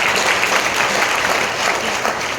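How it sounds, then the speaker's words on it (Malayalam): An audience at a product presentation bursts into sustained, dense applause, many hands clapping loudly and steadily for the full stretch. "അതൊരു ഗംഭീരമായ ക്ലാപ്പ് കൊടുക്കും"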